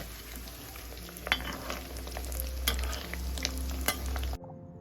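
Mutton kola balls, rolled minced meat, frying in oil, a steady close sizzle with sharp stirring knocks and scrapes before the sound cuts off abruptly near the end.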